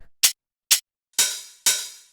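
Short, punchy hi-hat layer in a deep minimal house beat: two tight, bright ticks, followed by two longer, fuller hits with a lingering decay, dry and close with no talking.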